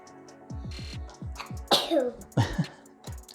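Two sharp sneezes burst out one after another, close and loud, over a run of clicking and ratcheting sounds from installing accessories on a 2022 Yamaha MT-09 motorcycle.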